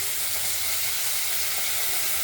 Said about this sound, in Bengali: আমরা ঢ্যাঁড়সগুলোকে প্রথমে একটু ভেজে নিই